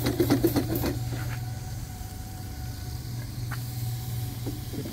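A small steam engine running on steam, with a steady low hum and a soft hiss close by, plus a few knocks and clicks at the start.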